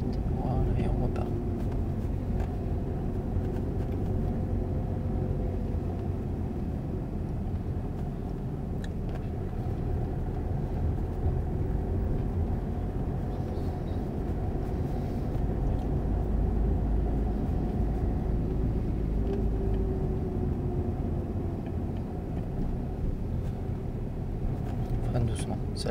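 A car pulls away during a driving lesson, its engine and road noise forming a steady low rumble from inside the cabin throughout, with an instructor talking over it.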